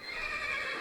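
Horse neigh from the Minecraft modpack Tekkit: a single short, bright whinny, loud and close, filling under a second with no other sound.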